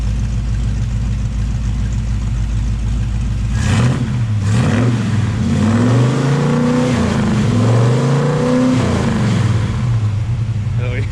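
A Ford 351 Cleveland V8 sits at a loud idle, then takes a few sharp throttle blips whose revs climb and fall back before settling into another longer rev and return to idle.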